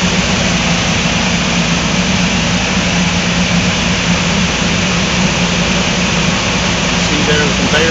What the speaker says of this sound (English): All the preheat blowers are fully functional and blowing right now.